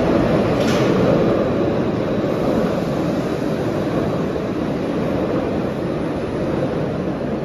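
An old metro train at an underground station in Paris, a loud, steady rumble with a constant hiss and a faint high whine, continuous with no voices.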